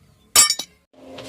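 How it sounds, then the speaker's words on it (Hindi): Glass struck with a spark plug in a glass-cutting experiment, two or three sharp close clinks and a brief crackle, followed by a faint ringing tone, with no talk. "यहाँ से और यहाँ से टूट गया"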